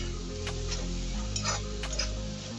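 Green chilli and garlic sautéing in a pan for village-style brinjal bharit, a steady low sizzle with a few soft stirring scrapes and light clicks, with no talk.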